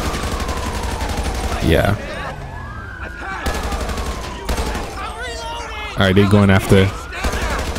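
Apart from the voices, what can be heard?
gunfire in GTA 5 LSPDFR video game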